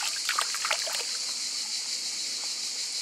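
Spring water trickles steadily in a barren landscape on Thassos, a continuous hiss-like flow with faint splashy detail early on, alone without talk.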